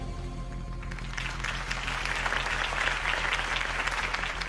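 Crowd applause after a campaign speech for Harvey Dent swells into a broad, sustained wash of clapping over a steady low hum that runs underneath throughout.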